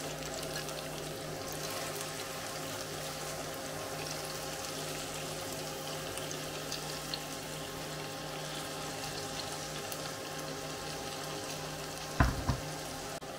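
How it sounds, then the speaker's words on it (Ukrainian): Zucchini and peppers, laid over tomatoes and browning onion, fry in a pan with a steady, even sizzle that holds at the same level throughout, close by, with one brief knock near the end. "І поки наші овочі смажаться"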